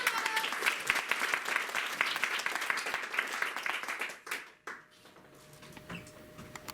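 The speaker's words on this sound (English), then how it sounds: "after a warm round of applause" An improv comedy show's audience gives a warm round of applause, dense crisp clapping that runs for about four seconds, then thins out into scattered claps and quiet room noise.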